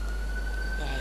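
Modded police siren in GTA 4, a steady electronic tone running through the whole short stretch over a constant low hum, loud and close.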